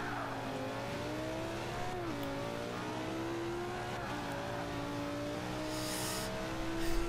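A Lamborghini Gallardo in the racing game Forza Motorsport 5 revs hard, its engine note rising and dipping through gear changes in a continuous loud drone, with a brief tire squeal near the end.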